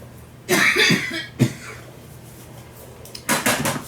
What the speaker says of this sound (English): As you can tell, I have a cough.